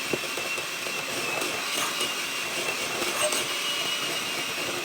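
An electric hand mixer whirs steadily and continuously as it beats buttermilk pie filling in a bowl, a moderate, even motor drone with faint clinks from the beaters.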